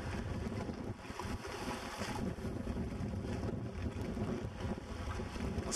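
Strong, constant wind buffets the microphone beside a flooded lakeside near Caspe, where the water has risen one and a half to two metres, giving a dense, roaring rush with faint sounds of lapping water beneath.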